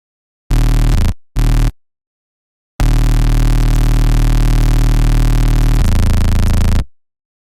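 A song's original bass line played back on its own: two short buzzy, harmonically dense notes, then a long sustained note that shifts pitch near its end, loud and with no talk over it.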